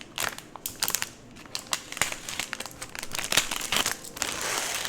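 Plastic packaging on a paint-by-number kit is cut open and handled up close, producing dense crinkling and crumpling with sharp snips and rustles throughout, with no talking.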